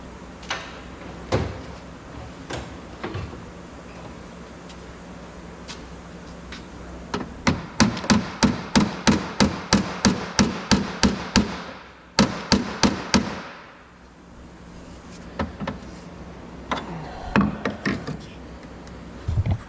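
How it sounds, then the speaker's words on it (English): Sharp metallic hammer-and-dolly blows ring out on a Vauxhall Corsa VXR front wing panel, a few scattered at first, then a rapid steady series of strikes, pausing briefly before more taps resume. "I'm just gonna probably get my hammer and dolly and just bend this back round slightly"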